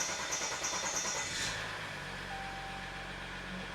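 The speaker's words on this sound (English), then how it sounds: "That is a really long crank." A Ram 1500 EcoDiesel engine cranks with a steady rhythmic churn for about a second and a half, then catches into a low, even diesel rumble that holds steady to the end.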